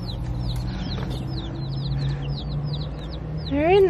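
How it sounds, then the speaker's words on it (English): A crowd of baby chicks peeps constantly in high, quick chirps over a low engine-like hum, with a louder call at the end. "We got baby chicks."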